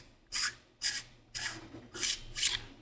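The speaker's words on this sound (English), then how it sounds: "To get to your battery, what you want to do is unscrew your emitter." Five short, even twisting scrapes, close and fairly quiet with pauses between, as threads turn while the emitter is unscrewed from a Neopixel lightsaber hilt.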